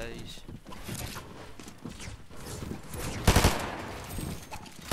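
A quick cluster of gunshots rings out in a Fortnite Duo Cash Cup match, sharp and close, amid shuffling footsteps and lighter background action while people talk.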